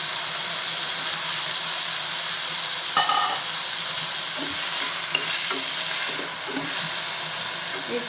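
Cut clove beans with onion and green chilli stir-fried in a hot pan after mustard seeds crackle, a steady loud sizzle and hiss with a few spoon scrapes and pops, close by.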